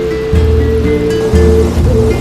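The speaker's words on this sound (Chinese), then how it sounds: "现在来到了第2个景点 Perikny Waterfall" Perićnik waterfall in Slovenia's national park, a steady, loud roar of falling water filling the whole clip, with dense rushing noise and no voices.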